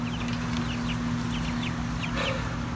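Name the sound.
pet birds clucking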